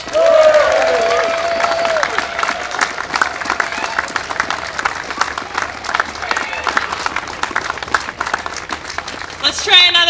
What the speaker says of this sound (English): Let's give another big round of applause for all our speakers today.